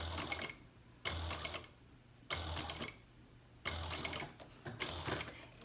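A sewing machine topstitching a handbag runs in four short bursts of rapid mechanical stitching, each about a second long, with quiet pauses between them, close and clear.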